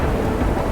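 Steady, dense rainfall with a low rolling rumble of thunder beneath it, loud and continuous for under a second with no voices.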